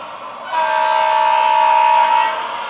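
Kato N gauge model locomotive running on an automatic DCC-controlled layout loop, a steady mechanical whir with a bright whine that swells in after half a second, holds, then eases slightly near the end.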